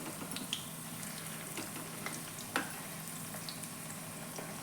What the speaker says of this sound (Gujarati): આગળ પાછળ ફેરવી એ ગોલ્ડન બ્રાઉન કલર જેવું થઈ જાય ત્યાં સુધી આપણે આ ટીકીને સેલો ફ્રાય કરી લઈશું